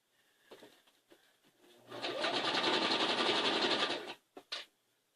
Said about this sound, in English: And let's sew us another one on.